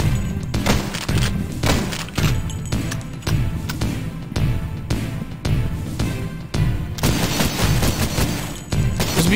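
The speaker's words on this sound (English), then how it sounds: "now you have to make it across while being shot at by someone" Rapid bursts of enemy gunfire in the video game Cultic, close and loud, firing in repeated volleys with heavy thumps over a steady rumble across the whole stretch.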